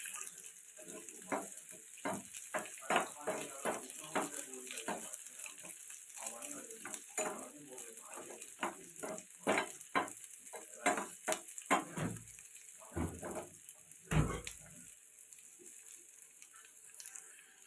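Sliced shallots and curry leaves dropped into hot oil after mustard seeds have popped, giving a close, crackling sizzle with irregular stirring scrapes and a few sharper bursts, loud at first and easing off toward the end.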